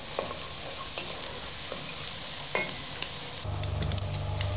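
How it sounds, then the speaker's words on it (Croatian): Finely chopped onion fries in heated butter with a steady crackling sizzle. There are soft stirring scrapes and small pops throughout, and a low hum comes in near the end. "Sitno kosani luk stavite na ugrijani maslac"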